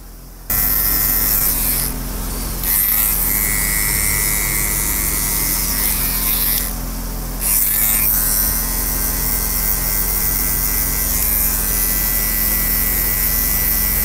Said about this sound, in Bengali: গাইজ এবার আমরা সাইডের শেপটা দিয়ে নেব। আমরা ছোট মেশিনটা ইউজ করব।